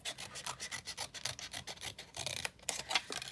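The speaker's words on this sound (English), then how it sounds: "let me just trim the rough bits off there where I didn't cut it properly" Scissors or a blade trim rough edges from a die-cut paper cauldron for a Halloween card, giving quick rhythmic rasping snips close by and fairly quiet, with no voices.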